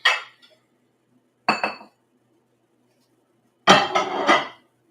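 A bowl is picked up and set down among other dishes while making a vegan banana dessert with Golden Oreos, giving three separate bursts of ceramic clinking and clattering, the last longest, with quiet gaps between.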